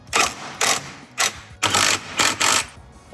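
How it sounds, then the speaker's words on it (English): A ratchet torquing subframe bolts on a written-off Audi TT being rebuilt, six quick bursts of close, loud clicking separated by short pauses. "Always remember to torque your bolts after."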